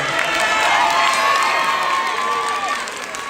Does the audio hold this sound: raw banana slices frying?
no